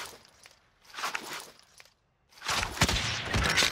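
Gunfire in the video game Call of Duty: Modern Warfare: bursts of shots and impacts arrive in two clusters split by a short silence, the second louder and denser, with no voices.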